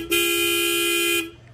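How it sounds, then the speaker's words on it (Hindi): A single steady blast from an aftermarket horn fitted to a BMW G 310 GS motorcycle, lasting about a second, loud and close, with a bright buzzing tone that cuts off abruptly. "इसमें हॉर्न भी लगा रखी है। इसका साउंड सुना देते हैं"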